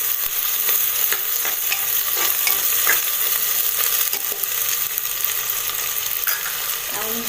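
Coconut chilli powder frying in a pan while a chicken pulimunchi is made: a dense, even sizzle up close with light stirring scrapes throughout.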